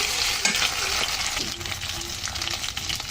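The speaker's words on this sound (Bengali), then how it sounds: "একটু সুন্দর করে একদম লাল লাল করে ভেজে নেব" Chunks of taro root fry in hot oil in a pan while being stirred, a loud continuous sizzle with scraping strokes of the spoon running through it.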